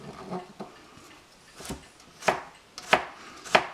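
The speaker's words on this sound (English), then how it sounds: "And my wife Susan is particularly good at growing garlic. And what I do is I just slice it up." A knife slicing home-grown garlic on a cutting board gives a handful of separate crisp knocks, irregular and close, the last ones sharper and louder, with no talk.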